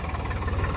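Tractor engine running nearby with a low, steady throbbing idle-like chug, moderately loud, in a brief stretch with no talk.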